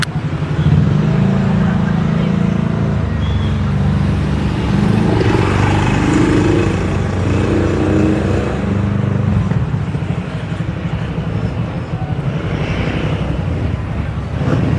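A tricycle engine putters close by amid road traffic, a continuous low rumble with steady noise throughout.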